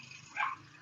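A lone short dog bark, fairly faint and a little distant, stands out once from quiet indoor background.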